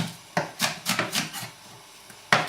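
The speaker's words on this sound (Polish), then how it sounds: "Teraz pokroję jedną cebulę w drobną kostkę i ją podsmażę" A knife chops an onion into fine dice on a cutting board in a handful of sharp, irregular strikes, close and clear, with brief pauses between cuts.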